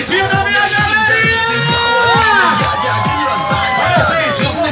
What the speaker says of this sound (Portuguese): E cadê o gritinho da minha galera?